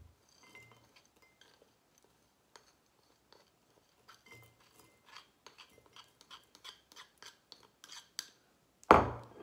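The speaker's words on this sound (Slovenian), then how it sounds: "zmešamo v eno stekleno posodo." Lip balm ingredients being stirred together in a glass bowl: soft scraping and light clinking of a utensil against glass, quiet and close, growing busier and ending in a louder clatter.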